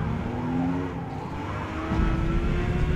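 A Porsche sports car engine from Zuffenhausen under acceleration in Forza Motorsport, a steady droning growl rising in pitch with some tyre noise, loud and continuous, no talk.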